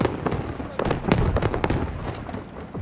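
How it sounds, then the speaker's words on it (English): Grenade blasts in the Battlefield V multiplayer game, a quick series of sharp, crackling bursts close by, mixed with shouting voices. "Grenade! Grenade, my boy. Grenade."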